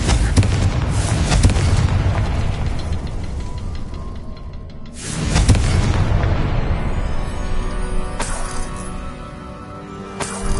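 Spell explosions from the Bombarda and Confringo charms in the video game Hogwarts Legacy, two big booming blasts with rumbling, crackling debris tails, the second following about five seconds after the first, plus a few sharper hits near the end.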